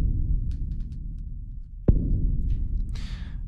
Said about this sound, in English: just in case if you want this sort of more rumbly tail in your boom